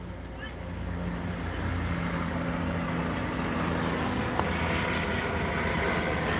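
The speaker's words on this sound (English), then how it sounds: "And here more helicopters." A continuous helicopter engine drone, fairly loud and steady, swelling slightly as it passes overhead.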